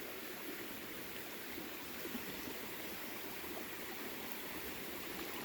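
Creek water flowing in rural Missouri, a steady, soft rushing and trickling without a break and with no voices.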